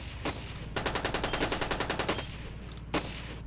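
AK rifle fire in the stick-figure battle game Ravenfield: a sharp single shot, then a fast burst of about fifteen evenly spaced rounds, and one more isolated shot near the end, loud and close.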